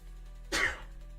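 A single sudden sneeze bursts out over a low steady hum, brief and fairly close, then trails off quickly into quiet.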